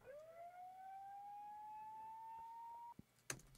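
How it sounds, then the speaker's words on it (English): A rising siren sound effect used in a song production, climbing and then holding a steady wail for about three seconds before cutting off, followed by a short burst of noise. "And then you have this siren also."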